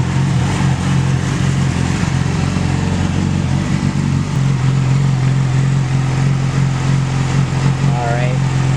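A Yamaha R6 sport bike fitted with a TOCE straight-pipe exhaust runs loud and close, a steady deep engine drone with slight rises in pitch, while someone talks over it.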